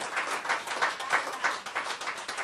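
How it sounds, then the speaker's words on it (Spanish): Congregation clapping in rhythm during a church discipleship class, a steady, dense patter of many hands pulsing in regular beats, moderately loud and filling the room with no talk over it. "Denle un aplauso al Señor"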